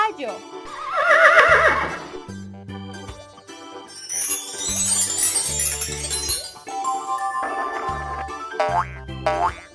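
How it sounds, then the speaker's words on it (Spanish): A toy-like horse whinny rings out from a children's animal sounds and colors game with a wooden hammer xylophone, bright neighing calls alternating with boingy xylophone notes and a voice naming animals. "Caballo."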